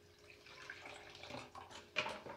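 Cold water is run and poured for a gelatin ice cream dessert, faint trickling and splashing with a louder splash near the end, no talking.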